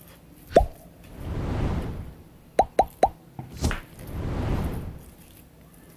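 Boiled cassava cooked in salted water being mashed with a fork: a few soft wet squishes and sharp taps against the bowl, with long hissing swells between them, close and fairly quiet.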